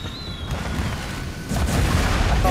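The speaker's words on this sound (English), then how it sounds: "I thought those fireworks were coming down at me for a moment." Fireworks bursting during a festival scene in the video game Trek To Yomi, a continuous loud rumble of booms and crackle that grows heavier and denser partway through.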